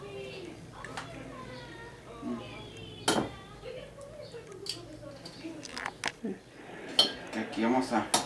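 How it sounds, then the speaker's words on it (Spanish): Cooked jujubes being dropped into a glass jar, giving faint scattered clinks and taps, including a few sharper knocks, while a person talks quietly over them. "los voy a echar en el frasco"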